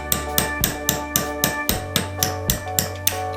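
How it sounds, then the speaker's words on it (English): A punch is hammered to drive a roll pin down through a pistol slide: a steady series of about a dozen sharp metallic taps, evenly spaced and close, with a low hum underneath. "we'll punch this pin straight down through the slide"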